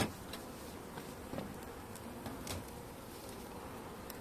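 Honey bees of the Caucasian breed buzzing steadily at an opened Anatolian hive during spring inspection, a continuous soft drone close by with occasional brief ticks, no talking.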